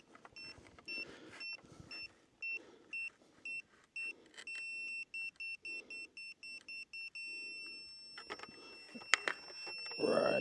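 A Datum rotary laser level receiver gives a string of short, evenly spaced electronic beeps that speed into a rapid pulsing run, then cut off amid handling knocks and a louder rustle at the end.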